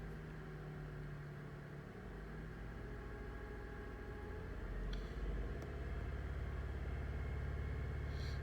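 Car engine held at about 2000 to 2500 RPM during a catalytic converter test, a steady close mechanical rumble that swells slightly louder partway through.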